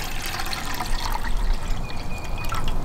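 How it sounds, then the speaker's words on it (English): Water is poured into a metal canteen cup for soaking lentils at a camp cooking setup, a loud, close, continuous splashing trickle throughout. "I'm gonna go ahead and add that water to the cup. So I'm just gonna eyeball that water"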